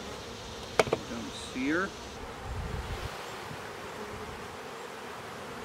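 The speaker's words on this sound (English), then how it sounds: "I'll shake off some younger bees." Honey bees hum in a steady, close buzzing drone around hive frames, with a few clicks and brief rattling handling noises; a person says a few words early on.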